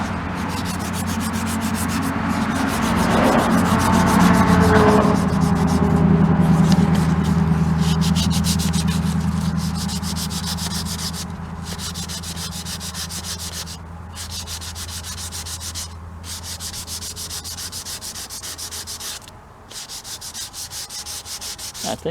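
Hand sanding with 400 grit sandpaper on a beam during maintenance: a continuous close scrubbing rasp that rises in the first few seconds, then settles into an even rubbing rhythm with brief pauses, and no talk.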